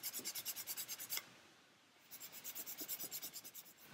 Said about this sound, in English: just a bit of sanding.